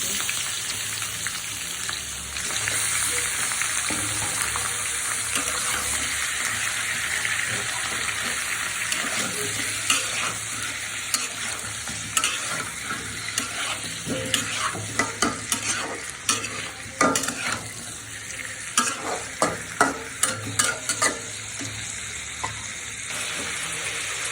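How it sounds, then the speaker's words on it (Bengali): Potatoes and meat fry in a pan with a steady sizzle for a Peshawari dish, while a utensil stirs and scrapes, producing sharper clattering knocks that grow more frequent in the second half, close and continuous. "আলুটা একটু ভাজবো। এখন আমি মাংসটাও ভেজে নেব। মাংসটাও দিয়ে দিচ্ছি।"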